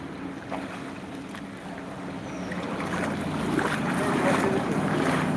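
Heavy rain pouring in Kolkata amid waterlogged streets, a steady broadband wash that grows slightly louder over the clip, with no voices.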